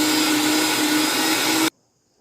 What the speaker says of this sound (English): And now again let us start grinding it.